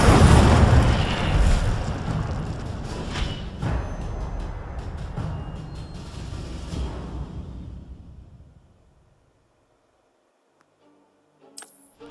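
An Incendio fire spell explodes in Hogwarts Legacy with a loud close burst, followed by crackling, popping bursts and tinkling debris that gradually fade out over about eight seconds into near silence, then a brief faint sound near the end.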